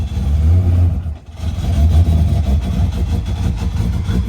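A Nissan GT-R engine rumbles loudly and close by, idling with a deep throb, dipping briefly and then revving up again in uneven surges.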